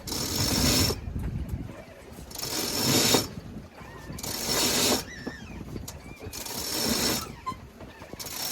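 A sailboat's inner staysail being trimmed in, with repeated bursts of winch ratcheting and line running through blocks, each lasting about a second, alternating with quieter gaps of wind and water.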